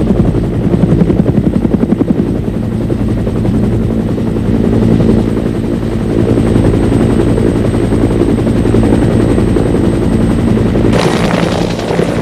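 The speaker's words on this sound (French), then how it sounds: "Lorsque l'hélicoptère a localisé les fumées de couleur signalant la zone d'atterrissage, il atterrit, embarque les blessés et repart pour l'unité de soins" A military helicopter comes in to land and pick up wounded, its rotor thumping loud, steady and close the whole time, with a brief burst of extra noise near the end.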